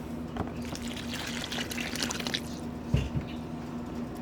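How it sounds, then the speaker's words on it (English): Broth pours and trickles steadily into a pan, with a soft splash near the end, close by and fairly quiet. "I'm pouring some of my broth in here."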